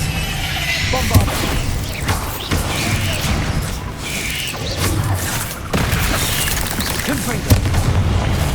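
Repeated spell blasts (Confringo, Bombarda) in the wizarding game Hogwarts Legacy, a steady barrage of booming impacts and crashes in close combat, with a voice calling out spell names over the noise.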